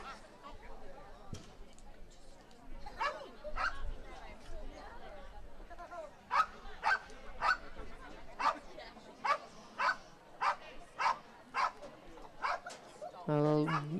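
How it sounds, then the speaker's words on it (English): A border collie at an agility competition barks repeatedly in quick, sharp bursts, moderately close, over a murmuring crowd and commentary voice, with a faint yip or whine earlier. "This is a border collie."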